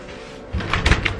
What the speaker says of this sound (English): We need to lock the fucking door.